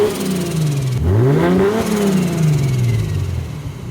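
A Lexus IS300 engine revs up sharply, holds high briefly and falls away in a long smooth drop, heard loud and close with no talking.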